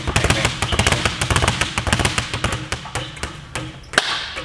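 Rapid bare-fist punches on a boxing speed bag: a fast, steady run of sharp taps and thuds, close and loud, with a brief pause and one harder hit near the end.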